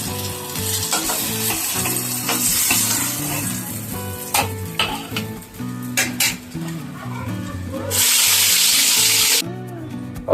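Brinjal slices frying in a pan, a loud close sizzle broken by scraping and clattering from a spatula turning the pieces, with a burst of intense hissing near the end.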